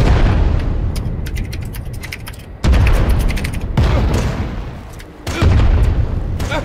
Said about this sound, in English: They're firing back!